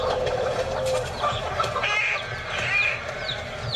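A chicken held in someone's hands clucks and makes drawn-out squawking calls, loud and close, over a steady background hum.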